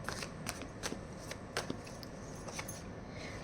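Tarot cards are shuffled by hand, giving quick, soft riffling flutters and light slaps in short bursts, close and fairly quiet, with no talking.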